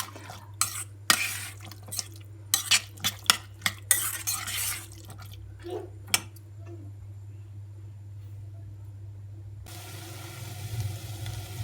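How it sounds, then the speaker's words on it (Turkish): Dried beans being stirred and sautéed in a pot, a run of clattering spoon scrapes against the metal over a steady low hum, then fading to a quiet simmer. "Tekrar karıştırıyorum. Bir 5 dakika kadar bu şekilde kavuracağım."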